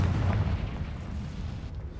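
A Confringo fire-blast spell from the Hogwarts Legacy video game erupts in a deep, booming explosion that rumbles loudly and fades over a couple of seconds, with no talk over it.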